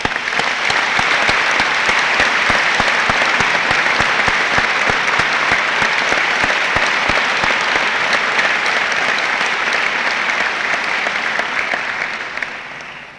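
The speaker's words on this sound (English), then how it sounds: "I ask you to extend them a round of applause." An audience at a 1987 school Founders Day ceremony gives a long, loud round of applause, with dense clapping that holds steady for about twelve seconds before tapering off at the end.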